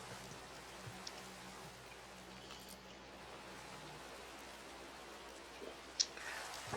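Rain falling at night in Minecraft, a faint, steady wash of raindrops with occasional soft clicks and a brief louder tap near the end, heard alone without talking.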